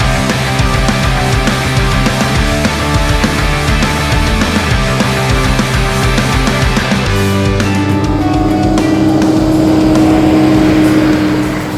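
A four-wheel drive vehicle turning off the highway near Fingal onto a track into a bush camp, its engine droning steadily and close throughout with road rumble, no talk.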